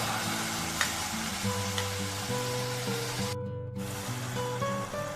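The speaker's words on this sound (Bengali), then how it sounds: "এইবার আমি অ্যাড করে দিচ্ছি 2 চামচ মতো আদা রসুন বাটা।" Ginger-garlic paste, about two spoonfuls, fries in a pan of oil for a Bengali chicken curry with new potatoes, giving a soft, steady sizzle with faint stirring scrapes and a brief gap partway through.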